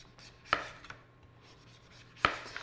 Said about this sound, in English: I'm just going to take my knife and slice down and peel away the skin